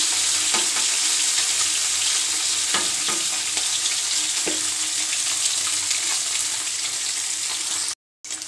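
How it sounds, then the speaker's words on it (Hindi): Rohu fish pieces frying in oil in a pan for an Odia fish curry, a steady loud sizzling hiss with a few soft knocks and scrapes, cutting off briefly near the end. "देखो माछ पूरा भल भाव भजा हो सेम प्रोसेस रो सब एक माछ भाजी नवा"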